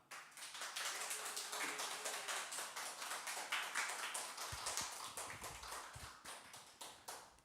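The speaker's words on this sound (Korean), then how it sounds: "힘차게 환영의 박수, 축복의 박수 하겠습니다." A church congregation claps in welcome during a spring Bible conference, a soft, dense, rhythmic patter of many hands heard from a distance and continuing steadily throughout.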